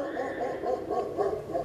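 A dog gives a run of rapid, high yipping barks, several in close succession at a steady rhythm over about two seconds, fairly near and fairly loud with no talking.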